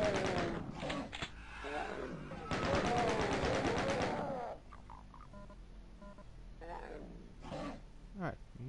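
Gunfire in the 1993 shooter Doom, Knee Deep in the Dead episode: loud bursts of rapid shots mixed with monster growls and roars, then quieter scattered shots and game noises.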